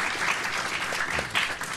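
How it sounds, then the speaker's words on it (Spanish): An audience gives steady, moderately loud applause to welcome a guest at a public panel on citizen security, with dense clapping throughout and no talking. "un aplauso para recibirlo."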